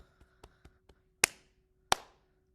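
Rhythmic hand pats for a children's loose tooth poem: a run of light, evenly spaced taps followed by two sharp, louder slaps, close and clear, with no talking.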